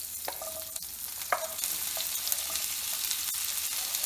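Chopped okra and green chillies sizzle in hot oil with cumin and asafoetida, a steady close frying hiss broken by a few sharp clinks and stirring scrapes.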